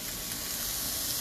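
Onions frying in a pan, a dense, even, close-up sizzle that holds steady and loud without pause, no voices.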